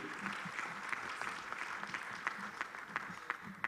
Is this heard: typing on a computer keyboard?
no